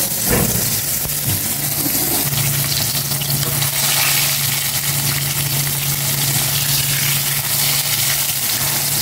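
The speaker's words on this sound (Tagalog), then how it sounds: "Tapos na po akong magprito" Flour-coated milkfish sizzles loudly and continuously in hot oil in a pan, a dense close-up crackle with an occasional spatter and a low hum underneath.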